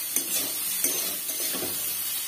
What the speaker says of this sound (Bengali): সরষের তেলে ভাজছি